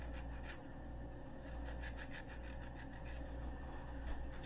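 A lemon's peel is scraped on a zester for muffins, making quiet, rhythmic rasping strokes close up, repeating steadily with no talk.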